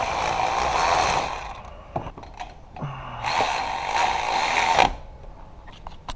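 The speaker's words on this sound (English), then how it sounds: "if you don't have one of these cordless ratchets, I recommend them" A cordless power ratchet whirs in bursts on a C6 Corvette water pump, with a buzzing motor run, a pause with a few clicks, then a second longer whir, heard up close.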